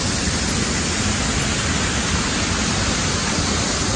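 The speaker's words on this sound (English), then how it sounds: "I was walking by and I heard the water." A water fountain at Columbus Circle in New York rushes in a dense, steady splash, close and continuous with no breaks.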